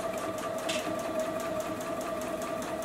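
A JUKI sewing machine stitches a seam on a fabric beverage coaster, a close, even, continuous whir with a steady rhythmic needle pulse throughout.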